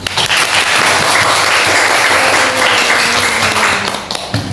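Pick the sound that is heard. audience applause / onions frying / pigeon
audience applause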